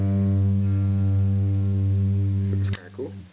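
Electric bass run through a Boss bass chorus pedal, a sustained low note with shimmering, wavering harmonics held steadily for nearly three seconds before being cut off, followed by a brief fading scrape.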